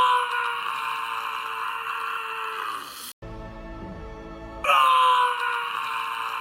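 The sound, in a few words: person imitating a dinosaur sound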